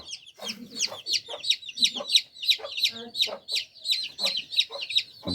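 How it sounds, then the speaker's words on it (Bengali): Local desi chickens cluck in quick repeated bursts close up, a steady busy rhythm with faint background voices. "এবার পাইছি একটা আমাদের লোকাল মুরগি দেশি মুরগি"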